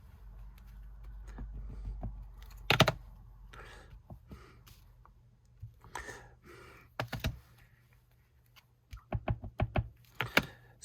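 Rubber stamp tapped onto card while making a Tim Holtz Three Kings Christmas card, giving sharp, close knocks in irregular clusters, sparse at first and quickening into rapid taps near the end, over a faint hum.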